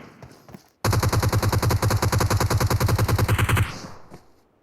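Sustained automatic gunfire in BGMI (Battlegrounds Mobile India), a rapid, evenly spaced burst of loud shots lasting nearly three seconds, with a softer game sound before it and a fading tail after.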